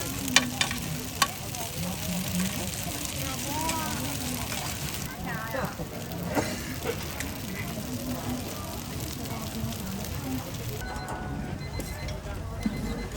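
Fresh corn cakes pan-frying on a griddle at a busy rural market street stall in Shandong, with a steady sizzle and stirring scrapes beneath constant crowd chatter and vendor talk.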